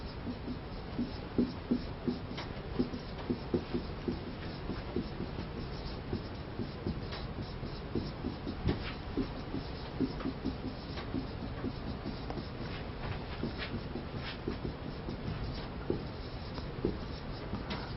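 Short scratchy strokes of writing on a board during a Korean environmental microbiology lecture come in a steady close rhythm, with no talking over them.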